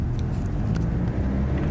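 A BMW 3 Series automatic pulling away under light throttle as the turbo begins to build, a steady low engine rumble inside the cabin with no talk.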